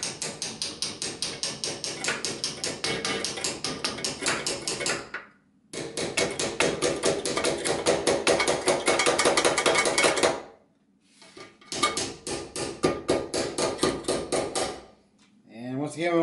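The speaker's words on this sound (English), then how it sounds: "So we're going to have to use the ball peen on this one." A ball peen hammer taps rapidly on a metal GPU bracket to bend it, bursts of dense ringing strikes separated by short pauses, close and alone.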